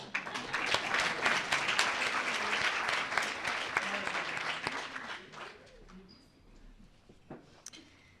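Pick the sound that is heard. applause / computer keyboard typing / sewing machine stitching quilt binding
applause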